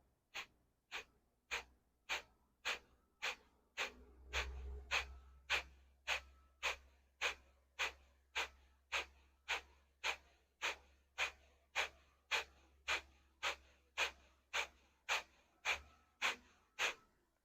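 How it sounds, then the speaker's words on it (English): Forceful rhythmic exhales during an advanced vinyasa yoga breathing exercise, sharp puffs of air pushed out about once a second in a steady, unbroken series, close to the microphone with no talking. "you are contracting the muscles every time as you exhale, pushing the air out of your body."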